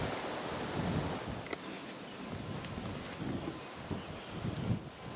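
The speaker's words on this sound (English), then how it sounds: "it's very windy right now" Strong wind blows across the microphone outdoors beside a raised nursery bed for tree seedlings, making continuous loud buffeting rumble and hiss with gusty surges and a few faint rustles.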